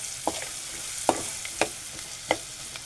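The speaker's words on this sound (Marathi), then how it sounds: "मी टाकला आहे कांदा, उभा चिरलेला कांदा आहे हा" Sliced onions fry in a pan under a soft, steady sizzle, broken by four or five sharp scrapes of a spatula stirring them, close and without talk.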